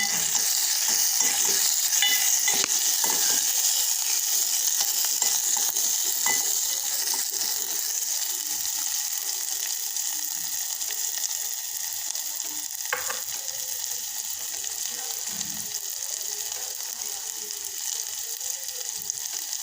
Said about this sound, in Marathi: कढीपत्ता टाकला लसण मिरच्याचा ठेचा जे तयार करून घेतला तर ते पण आता आपण याच्यामध्ये टाकून घेतला